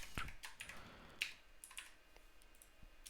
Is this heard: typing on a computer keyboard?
yes